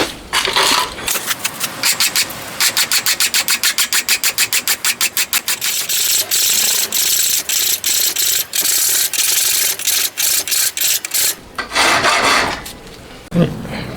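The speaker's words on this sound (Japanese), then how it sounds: "とりあえず手やすりで1個やってみます。" Hand file rasping across a freshly cast cylinder head for a homemade 125cc four-cylinder, 16-valve engine: close, loud, rhythmic back-and-forth strokes in quick regular bursts, with short pauses and a few scraping handling noises.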